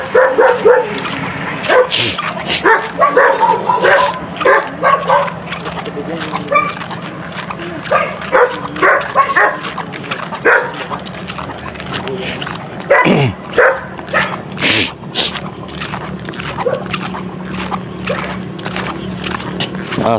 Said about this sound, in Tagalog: Aso pa nga.